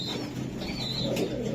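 Racer pigeons coo softly in low, steady murmurs close by, under a continuous background hum with faint chirps.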